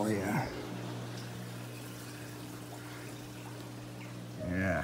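A new aquarium powerhead pump pushes water through a fish tank with a steady low hum and a churning wash. Brief voices come in at the start and end.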